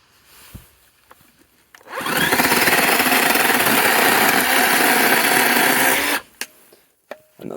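A battery chainsaw, held in one hand, whirs up after a few small knocks, runs at a steady loud whine for about four seconds, then cuts off, followed by light clicks and handling sounds.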